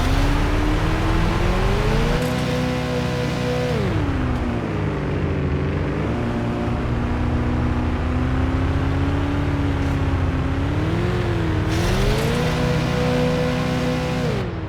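A Harasser buggy drives in a video game, its engine droning loudly and steadily at close range with the pitch rising and falling as the throttle changes. It runs continuously and no one speaks.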